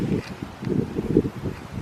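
Gusty wind buffeting outdoors beside a vehicle being washed, a steady low rumble with uneven surges, close and fairly loud, no voices.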